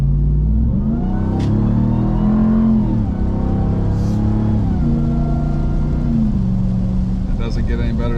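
A supercharged Dodge Hellcat engine revs loudly and close, climbing and falling through a couple of strong rev sweeps with a deep rumble and whine, while voices talk briefly over it.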